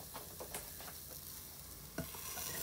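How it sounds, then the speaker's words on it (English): Quiet sizzling of carrots and celery in a pan, with a soft steady crackle and occasional scraping stirs, close and without voices. "you guys can hear the carrots and such sizzling"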